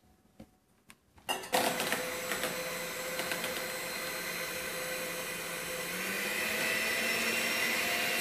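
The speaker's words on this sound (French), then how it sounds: "on va pouvoir monter nos blancs avec une partie du sucre qui a été réservée" An electric mixer starts up after a few faint knocks and whirs continuously, whipping egg whites with part of the sugar, its motor noise rising slightly toward the end with no one talking.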